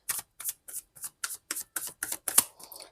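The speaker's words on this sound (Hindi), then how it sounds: "एक और कार्ड मैं लेना चाहूँगी टैरो से" Tarot cards being handled and drawn from a deck, a quick regular series of crisp riffling flicks, close and fairly quiet, with no voice over them.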